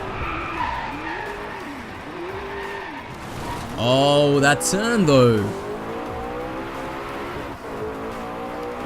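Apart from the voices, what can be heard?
car engine and tire skids in Driveclub video game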